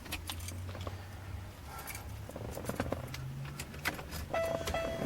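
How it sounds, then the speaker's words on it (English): Keys jangle and a key slides into the ignition of an Oldsmobile Regency, brief metallic clinks and scrapes up close inside the car, over a low steady hum, followed by a short faint electronic chime near the end. "I'm going to put the key in the ignition."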